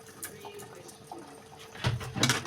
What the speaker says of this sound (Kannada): ಜಾರ್ ತೊಳ್ಕೊಂಡು ಅದನ್ನು ನೀರು ಹಾಕಿದ್ದೀನಿ.